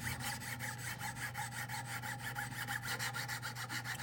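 A Hinderer knife blade rasps steadily on a 1000 grit diamond stone in a Wicked Edge sharpener, a quiet, even stroking rhythm of about three scrapes per second with no talk.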